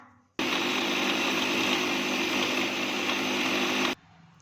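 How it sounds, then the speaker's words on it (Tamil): A mixer grinder blending an Oreo milkshake starts abruptly, whirs at a steady high pitch for about three and a half seconds, then cuts off, loud and close. "இப்போ மிக்ஸி ஜாரில் போட்டு அரைச்சிக்கலாம்."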